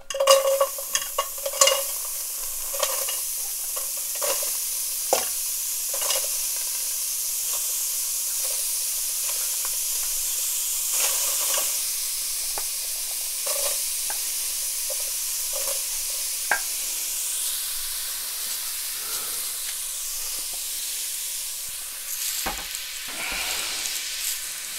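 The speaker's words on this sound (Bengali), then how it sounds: "এখন দিয়ার পেঁয়াজ" Sliced onions fry in a hot pan while being stirred, a continuous close hiss of sizzling with scattered scraping and tapping strokes early on and a few louder knocks near the end; no speech.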